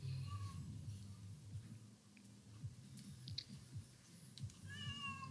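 A cat meows several times, with short rising calls scattered across the clip, under low game-like background sound and soft clicking.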